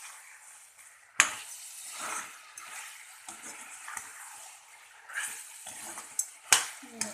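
Chicken and potato frying in oil on a low flame, a soft continuous sizzle broken by several sharp clatters of stirring and lid handling, close by.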